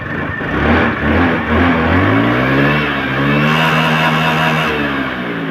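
A recently rebuilt car engine with a new genuine piston and bored cylinder runs loud and close after starting, a steady droning hum whose pitch rises and eases slightly, suggesting mild revving.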